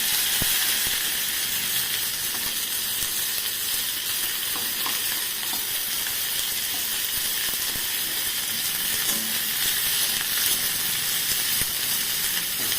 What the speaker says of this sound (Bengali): মাছটা একটু ভাজা ভাজা করতে হবে